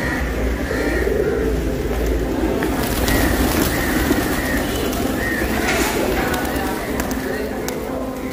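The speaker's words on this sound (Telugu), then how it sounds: "పావురాలు, పక్షులు మనకు స్వాగతం పలుకుతున్నాయి" Pigeons coo steadily and close by in the grounds of the Ugratara Shakti Peeth temple in Guwahati, a continuous soft warbling chorus with other bird calls mixed in and voices nearby.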